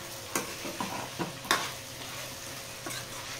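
A chicken fry being stirred in a pan, a soft low sizzle with a handful of distinct scraping spatula strokes spaced irregularly, fairly faint and without speech.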